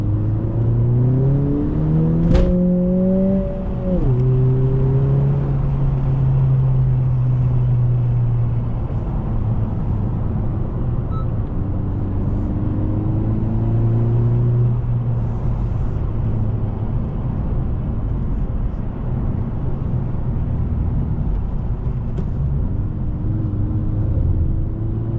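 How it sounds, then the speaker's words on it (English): A 2020 Honda Civic Si pulls hard up a mountain road, its engine climbing through the revs in several rising sweeps with shifts between them, heard loud and steady from inside the car. "I will shut up and just let you listen to the car."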